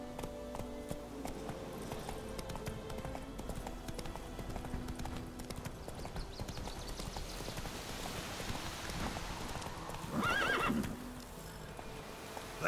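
Roach the horse gallops in The Witcher 3, hooves pounding in a rapid steady rhythm with rain falling around, and a short whinny near the end.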